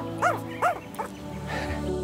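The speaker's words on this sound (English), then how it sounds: "Those little sounds are so cute, the little whimpers." Orphaned baby kangaroo joeys giving soft high whimpers, three short squeaky cries in quick succession up close, with faint murmuring and background room noise under them.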